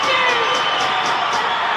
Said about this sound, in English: We're just going to let the crowd noise play this out.